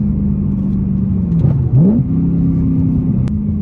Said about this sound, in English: Manual with the loud exhaust.